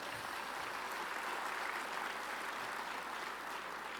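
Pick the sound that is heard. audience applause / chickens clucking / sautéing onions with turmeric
audience applause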